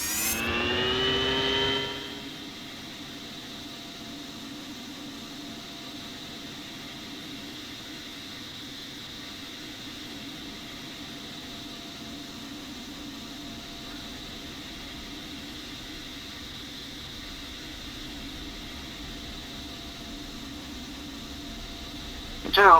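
Harrier AV-8B jet engine in the Falcon BMS flight simulator at maximum RPM: a steady, loud broadband roar and whine holding unchanged after a brief louder opening, with a short burst at the end.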